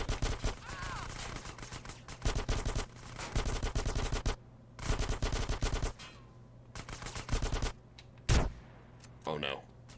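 Rapid bursts of Uzi submachine-gun fire in GTA San Andreas, loud sustained volleys broken by short pauses, with a single heavy shot late on and a voice talking briefly between bursts.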